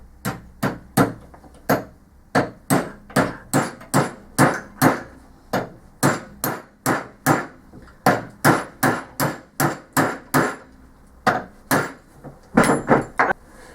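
A hammer strikes a metal pin punch again and again, driving a pin during a Ford Transit starter motor repair, sharp close metallic taps in a steady rhythm of about two per second with brief pauses.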